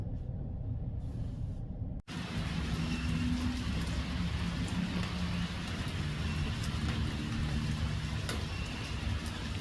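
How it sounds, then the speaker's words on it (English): Steady broadband wash of flowing water with light rain pattering, continuous and even throughout after a brief quieter start. "the creek sounds nice. A little bit of rain."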